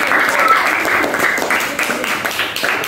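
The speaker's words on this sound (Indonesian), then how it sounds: "Tepuk tangan semuanya." Audience applause after a storytelling performance of a children's tale, a dense, steady patter of many hands clapping at close range for about three seconds, with some voices mixed underneath.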